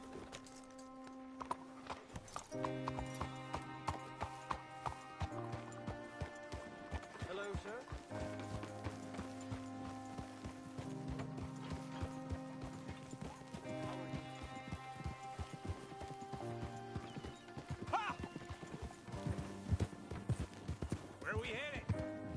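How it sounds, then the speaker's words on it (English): Horse hooves beat a steady galloping clip-clop across the ground in Red Dead Redemption 2, running continuously under a layer of music and game ambience. "You got a horse?"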